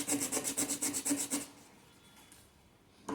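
Sandpaper rubbed on the terminal of a lithium iron phosphate battery cell: about eight quick, even back-and-forth scrapes, close and fairly loud, then near silence.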